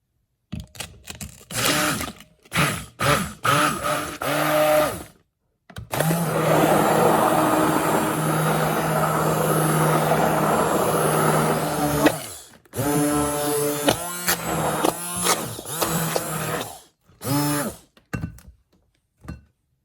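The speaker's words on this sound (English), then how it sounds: "I'm going to use this hand mixer." Electric hand mixer whipping hot cocoa, running in several loud whirring bursts with a long steady stretch in the middle, separated by brief silences and clattering handling noises.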